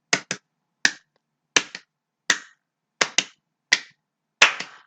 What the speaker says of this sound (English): Double claps.